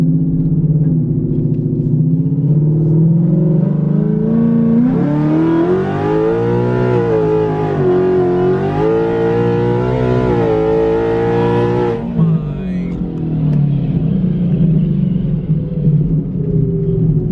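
A 2018–2019 Ford Mustang race car, the fastest naturally aspirated one, roars on a track; its engine rumbles at idle, then climbs into a loud, rising rev that holds for several seconds before dropping back to a low growl.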